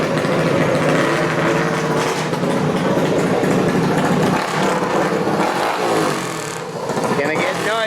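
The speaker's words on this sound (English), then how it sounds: "They just started the dyno up and running their first bike on it." A minibike drag bike engine of about 25 horsepower running on a dyno at a minibike reunion in a park, loud and steady engine roar with a slight dip near the end, voices talking over it.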